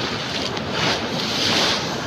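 Swollen river in flood where the Sindphana, Bindusara and Karpara meet near Majalgaon dam, a steady loud rush of churning water with wind buffeting the microphone, no voices.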